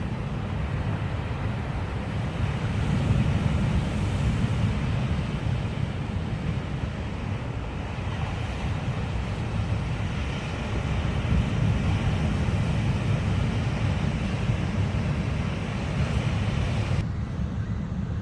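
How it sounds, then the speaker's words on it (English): Big ocean swells roar steadily on a Newfoundland shore, a loud continuous rumbling wash with no clear breaks, partly mixed with wind buffeting the microphone. "You can hear it roaring really loud, but it's pretty big swells"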